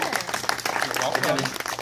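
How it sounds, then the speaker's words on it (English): Wedding guests give a short burst of applause for the bride, scattered clapping mixed with cheerful voices and chatter close by. "Go ahead and give her a round of applause."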